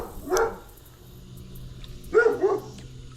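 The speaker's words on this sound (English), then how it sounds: "I was hoping this dog would be quiet after a" A dog barks near a fishing spot after two days of rain, giving one short yap, then two more sharp barks in quick succession about two seconds later, loud and clear against a quiet background.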